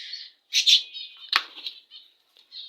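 A male budgerigar flaps its wings as it flies upward, making a quick fluttering whirr amid soft chirps from nearby budgerigars, close by with no voices.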